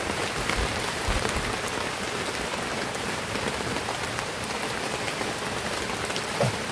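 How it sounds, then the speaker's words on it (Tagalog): Heavy rain pours down in a forest among many trees, a dense, constant hiss of drops striking leaves and ground, loud and unbroken with no voices. "Malakas na ulan mga idol."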